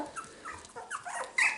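Young Cockapoo puppies, four weeks old, whimper and yip in a string of short, high-pitched cries close by, ending in a louder squeal.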